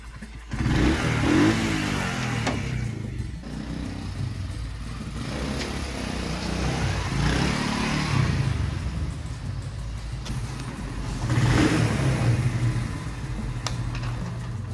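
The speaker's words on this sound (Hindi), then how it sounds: "तो अभी हम बाइक पे बैठते हैं।" A motorbike engine runs and revs while riding through a cold village, a steady mid-pitched drone with surges of throttle and wind buffeting, no talk.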